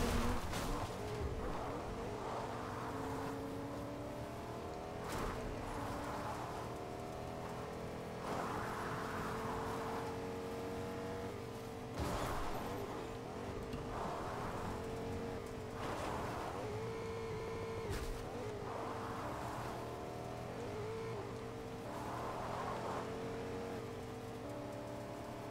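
A fast vehicle drives in a Star Wars video game, giving a steady droning engine hum with periodic whooshing bursts every few seconds, moderately quiet and with no talking.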